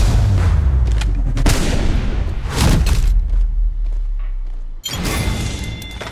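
Gunfire in a video game battle, a series of loud booming shots and heavy thuds over a dense rumbling background, with a sharp break near the end before firing resumes.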